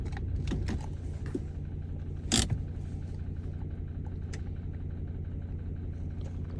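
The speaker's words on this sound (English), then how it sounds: "I'll turn off the engine." The 3.2 litre engine of a Ford Ranger with a P0299 underboost fault idles as a low, steady rumble nearby, with a sharp click or knock partway through and no talking.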